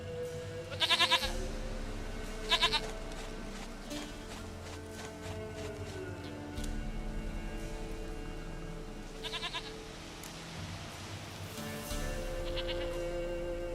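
A goat in The Witcher 3 video game bleats in several loud, wavering cries spaced across the stretch, heard close over a quiet ambient game soundscape with faint hoof clatter.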